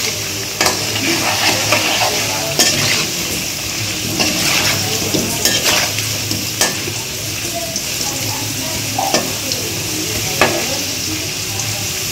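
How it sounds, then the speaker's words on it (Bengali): Potatoes frying in a pan with salt and turmeric, a steady close sizzle running throughout with occasional stirring scrapes and clinks of a utensil against the pan. "দিয়ে দিচ্ছি একটু লবণ আর একটু হলুদ, এগুলো দিয়ে আমি আলুটা ভেজে নিই।"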